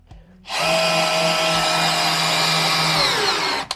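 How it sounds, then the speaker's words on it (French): A power drill drives a screw into a wooden floor joist, a loud, close whine that holds for about three seconds and drops in pitch as it slows before stopping. "je vais visser cette vis"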